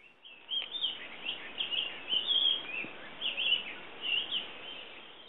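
Birds sing and call through a Guam forest from before the brown tree snakes arrived, a dense chorus of chirps and trills blending close and distant voices, steady throughout with no talking.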